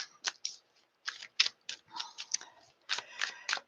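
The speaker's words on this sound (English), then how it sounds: "We're going to start shuffling for Gemini." Tarot cards being shuffled by hand, a quick irregular series of crisp flicks and riffles close by, with short pauses between bursts and no speech.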